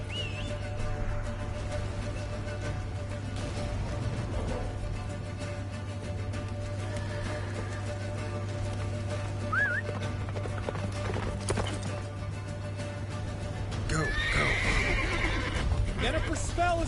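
Roach, the horse in The Witcher 3, gallops with rhythmic hoofbeats through a blizzard, neighing and whinnying several times over the steady hoof clatter and wind, with game dialogue spoken over it.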